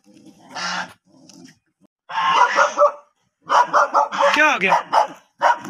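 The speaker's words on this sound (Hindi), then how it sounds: "नया आया देखो भौंक लिया" A dog barks in several short, close bursts, mixed in with people talking nearby.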